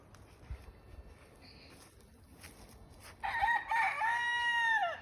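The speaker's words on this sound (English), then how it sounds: "Just in case anybody wanted to see some cute chickens." Backyard chickens on a small budget farm, with quiet scattered clucks early on, then a loud rooster crow rings out nearby and holds for a couple of seconds.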